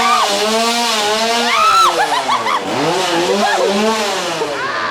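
A loud chainsaw revving up and down continuously inside a haunted house attraction, rising and falling in pitch as it is throttled hard, with voices faintly underneath.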